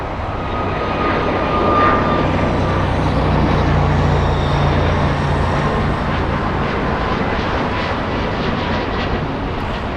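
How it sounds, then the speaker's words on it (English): Loud, sustained roar of an American Airlines jet accelerating down the runway for takeoff at LAX, heavy broadband engine noise holding steady throughout with no talk. "We have an American Airlines racing down the runway."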